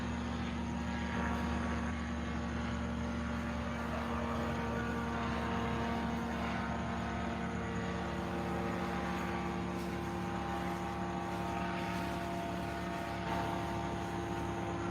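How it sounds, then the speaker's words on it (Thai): A paramotor flies overhead above Vang Vieng, Laos, its propeller engine giving off a steady, droning buzz with strong tonal hum, continuous and moderately distant, with no talking. "นี่พารามอเตอร์กำลังบินนะครับผม"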